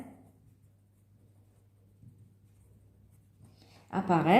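Marker or chalk scratching across a classroom board during a physics lecture on friction forces, a faint brief stroke near the start and another around two seconds, followed by a voice speaking.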